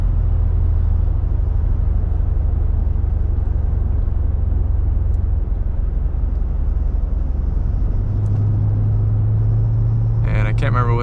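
Mercedes ML55 AMG engine on a test drive, driven at half to three-quarter throttle: a steady, loud low drone that holds throughout, deepening toward the end, with a brief rattle at the close.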